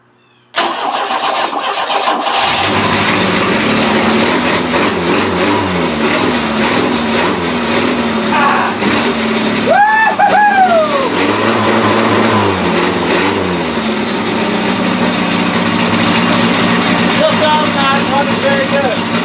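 Black Widow monster trike with a faulty starter cranks and fires up, then runs loud and close with uneven revving and a rough idle, while people talk nearby.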